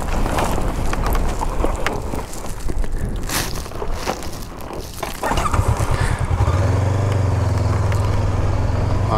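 Honda CB500X motorcycle riding along the Peruvian coast, a steady engine drone with wind rush that shifts partway through, settling into a low, even hum near the end.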